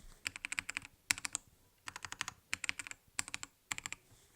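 Close-up typing on a Ziyoulang K68 mechanical keyboard with red switches, crisp rapid clacking keystrokes in several short bursts separated by brief pauses, with no talking.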